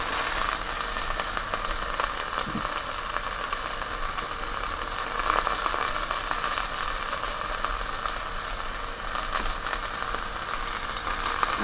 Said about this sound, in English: So just let it fry a little